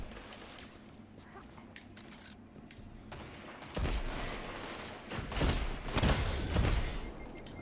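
Rapid bursts of auto rifle fire from Rufu's Fury, an adept raid weapon in a shooter game, crackle in the second half after a quieter stretch, punctuated by several loud volleys.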